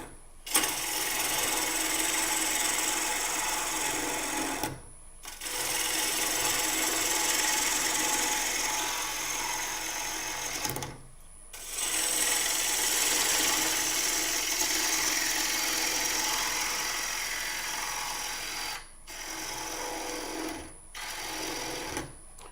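A wood lathe hollows out a bowl with a continuous rasping, rubbing cut that runs in long passes broken by several short pauses, loud and close throughout.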